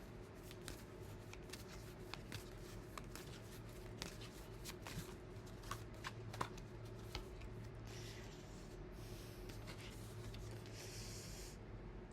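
Quiet, close riffling and soft slaps of cards being shuffled, in irregular bursts over a faint steady background hum.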